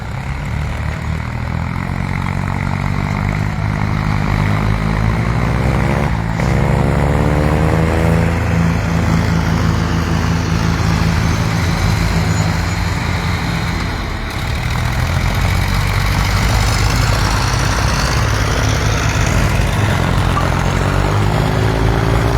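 Tractors work a farm field in a floodplain area of Banswar, their engines producing a loud, continuous drone with a rising and falling pitch that fills the whole stretch without pause.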